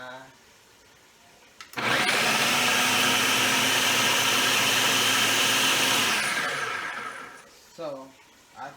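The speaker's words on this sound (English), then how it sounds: "So, put it in my food processor with my onions." A food processor whirs loudly and steadily for about four seconds chopping mushrooms and onions, starting abruptly and winding down, with a voice speaking briefly before and after.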